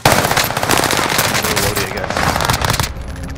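Rapid automatic gunfire in a battle royale video game, with dense bursts of shots sustained for about three seconds. The fire is loud and close and tapers off at the end.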